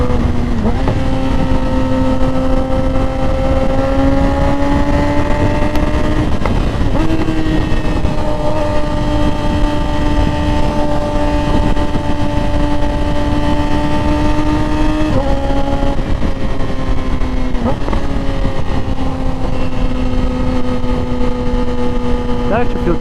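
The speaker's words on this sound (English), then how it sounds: "It's a nice smooth upshift, and obviously clutchless." A 2017–2021 Yamaha R6 fitted with a quick shifter drones loudly and steadily, its engine pitch dropping abruptly at each clutchless upshift, about three shifts in sequence.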